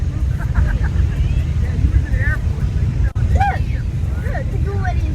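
A SpaceX Falcon rocket launch heard from Cocoa Beach, out over the sea: a low, steady, distant rumble fills the background while birds chirp intermittently above it.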